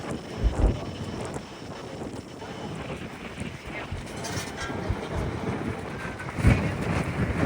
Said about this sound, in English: So the wind's really picked up.